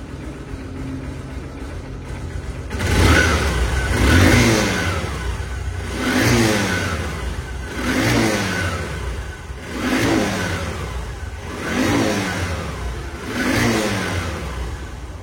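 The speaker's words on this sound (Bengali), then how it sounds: "সেলফে কিন্তু স্টার্ট হয়ে গেছে, দেখেন গাড়ি রানিং অবস্থায় আছে," A self-started Honda SP Shine motorcycle with about 2,943 km on it, close by: after a short quiet idle, the engine is revved in six even, repeated rising-and-falling surges over a steady idle.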